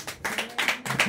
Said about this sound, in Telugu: వినాలి అన్న వాళ్ళు చప్పట్లు కొట్టండి.